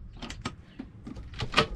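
Drawers or cupboard doors in a camper van kitchen, a Wingamm Oasi 540, slide and bump with a series of short clacks and rattles, fairly close and irregular, with no talking.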